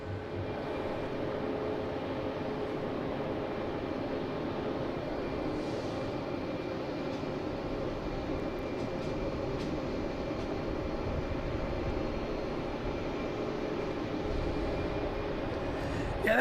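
A Delta airliner arrives from Seattle at Boston Logan International Airport, heard as a steady, continuous jet roar that stays even across the whole stretch, moderately loud and somewhat distant, with no talking.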